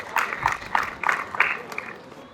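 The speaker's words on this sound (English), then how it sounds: "a round of applause for the lovely Nema" Short bursts of audience clapping at a live event, a few scattered rhythmic pulses of applause that fade quickly.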